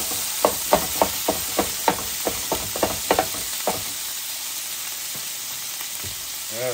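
Chopped cheese meat sizzles on a hot griddle as it fries and caramelizes, with a steady hiss broken by a quick series of sharp spatula scrapes and taps in the first half, then quieter frying.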